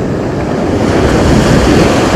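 Sea waves washing onto the central beach at Lazarevskoye in Sochi, a loud continuous surf roar with wind buffeting the microphone and no talking.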